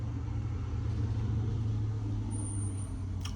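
A truck rumbles past outdoors, a steady low engine drone holding for several seconds with a brief faint hiss near the end.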